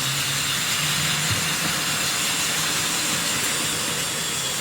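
Wrenn R1 tank locomotive running on a Tri-ang Super 4 model railway layout, with a steady hissing rumble and faint clicks of small wheels over track, continuous and fairly close.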